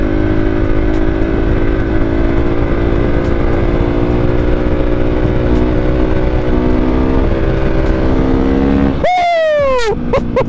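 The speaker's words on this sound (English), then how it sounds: "Now I'm going to hit a wheelie" A motorcycle engine holds a loud, steady high-revving drone close by during a wheelie, then drops off sharply and climbs again in quick rising sweeps at the end.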